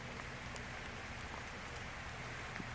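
Steady rain patters and drips outdoors, a dense, even hiss with occasional distinct drops.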